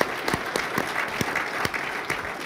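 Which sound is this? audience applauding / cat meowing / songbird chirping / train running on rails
audience applauding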